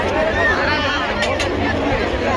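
Dense crowd babble from a packed Rajim Kumbh Mela fair near the Meena Bazaar, a steady wash of many overlapping voices with no single speaker standing out.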